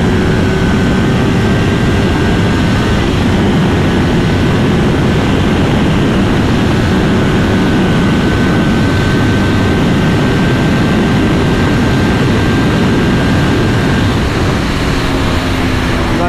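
A 2019 Kawasaki Ninja 400 motorcycle engine spinning near its 13,000 RPM top end, a loud, steady high-revving drone with rushing wind noise throughout, sustained without a break.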